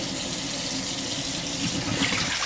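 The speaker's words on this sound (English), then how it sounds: "The water will run out. The water pours out, and then I set it here." Water pouring out of a jar turned upside down, a steady, full rushing gush that continues without a break, with no talking.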